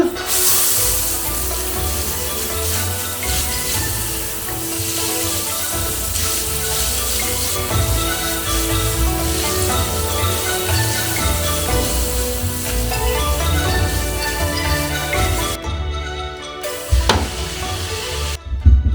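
Water poured over a Kaiweets 12-line laser level to test its water resistance: a steady, loud hiss of splashing and spraying water runs almost the whole way, with background music underneath and a brief break near the end.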